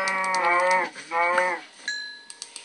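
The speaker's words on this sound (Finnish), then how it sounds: "Tuolla on lehmiä." Cows mooing in the Minecraft video game, two long drawn-out moos close together, followed by a few short clicking game sounds and a thin tone.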